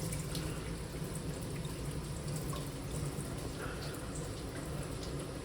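Tap water runs into a bowl of rice being rinsed of starch for a prawn biryani, a steady close gush and splash with faint clinks throughout.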